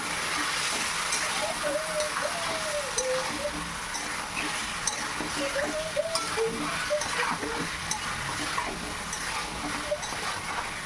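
Mutton pieces dropped into hot oil in a pot for Bengali mutton kosha, giving a steady, fairly loud broadband sizzle and crackle throughout, with faint voice-like tones and clatter mixed in.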